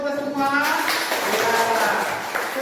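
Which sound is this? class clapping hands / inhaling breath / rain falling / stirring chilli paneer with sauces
class clapping hands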